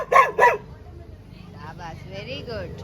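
A child imitates a dog with two loud, quick barks at a tea stop in Pattalagada, followed by people chatting.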